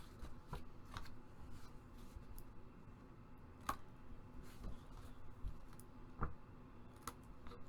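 Scissors snip small triangles off the corners of paper for a handmade mini album, giving sharp, faint, widely spaced clicks against a quiet room.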